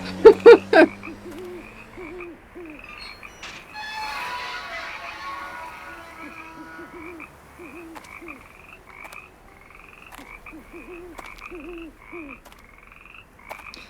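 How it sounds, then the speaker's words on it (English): Many frogs croak at night in the Nancy Drew game Curse of Blackmoor Manor, a steady chorus of repeated croaks with low hooting calls, following a few loud thumps at the start. "That's so many frogs."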